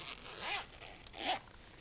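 The zipper on a suede-style long wallet is pulled in two quick, smooth strokes, close and quiet, with no talking.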